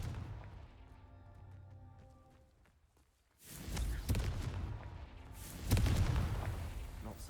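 A Confringo blasting-curse effect erupts after a quiet lead-in, first one booming burst and then a second, louder rumbling explosion that fills the rest of the sound.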